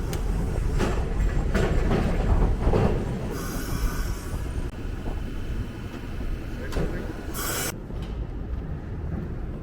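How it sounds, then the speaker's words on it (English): A historic streetcar rumbles along the tracks in Ybor City, Tampa, loud and close, with a steady rolling clatter, wheel squeal and brief bright screeches before it fades slightly. "Man, that streetcar really chugs along, doesn't it?"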